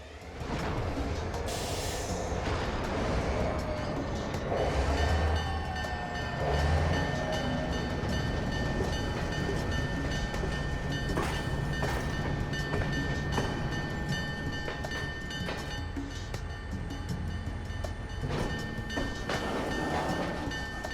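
A heavy freight train rumbles and grinds as it pulls away, with steady low engine drone, metallic squeals and clanking cars, loud and close throughout.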